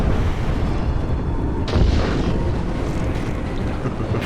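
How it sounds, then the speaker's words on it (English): A thermobaric rocket detonates in the mech combat game Mecha Knights: Nightmare, a single deep boom rising out of a steady rumbling, wind-like game ambience and rolling off slowly, with no one speaking. "That thermobaric rocket is actually kind of a fun one"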